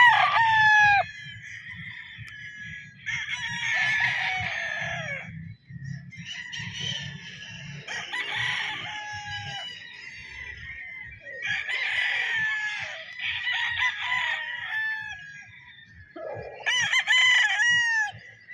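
Young gamefowl roosters on a farm, crowing repeatedly one after another, loud and close, with faint clucking and low background noise between the calls.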